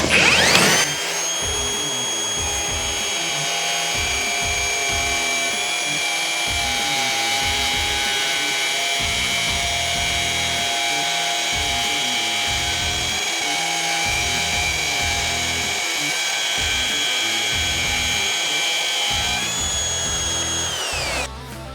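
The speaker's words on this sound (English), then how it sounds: "the new Makita XGT 40V 1/2-inch cordless router" A Makita XGT 40V 1/2-inch cordless router cuts through a worktop, a loud, sustained high whine that holds steady for about twenty seconds before spinning down, with no talking.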